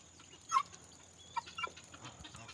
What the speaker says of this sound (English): She's clucking. This is the female guinea fowl sound.